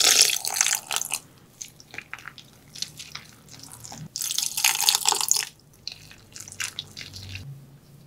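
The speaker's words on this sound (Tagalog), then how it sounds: "Magbuhos tayo ng tubig dito, pero paunti-unti lang para makuha natin yung tamang lapot nito." Water drips and splashes in bursts while it is poured little by little into a seasoned batter for tokneneng, coming close and fairly soft, with short pauses between pours.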